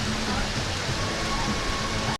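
Rain falls steadily over a ballfield during a delay in an American Legion baseball game, a dense, even hiss of downpour filling the whole stretch at constant loudness, with a faint hum underneath.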